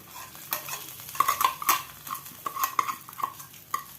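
Hot tempering of dried chillies and curry leaves is poured into cooked tapioca, giving soft sizzling with repeated metallic spoon scrapes and stirring clinks against a pan, fairly quiet and close.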